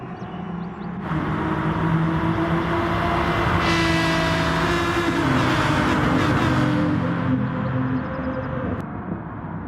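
Aston Martin GT3 race cars in the Gran Turismo video game at Interlagos, Brazil, running side by side into the first turn, with a steady loud engine drone and rising revs throughout.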